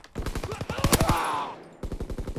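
Rapid bursts of gunfire in Call of Duty WW2, a fast rattling volley of shots that pauses briefly and then resumes, loud and close.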